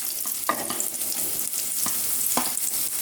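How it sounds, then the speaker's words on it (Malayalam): Finely chopped onions dropped into hot oil for a kids' lunch box, a busy close sizzle and crackle with stirring scrapes and small spatters, steady and fairly loud, no talk. "നമ്മുടെ എണ്ണ ചൂടായി വന്നിട്ടുണ്ട്. നമുക്കതിലേക്ക് കുറച്ച് സവാള ചെറുതായിട്ട് അരിഞ്ഞത് ഇട്ട് കൊടുക്കാം."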